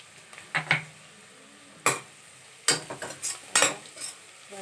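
Ginger and garlic sautéing in a pan with salt added, heard as a soft sizzle under sharp, irregular clinks and scrapes of a utensil stirring against the pan, several close bursts spaced across the clip.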